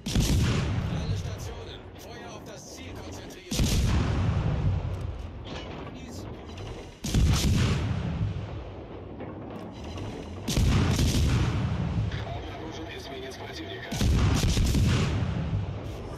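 Battleship main guns firing in World of Warships Legends, five heavy booming salvos spaced roughly every three to four seconds, each followed by a rumbling decay with mechanical clanks between.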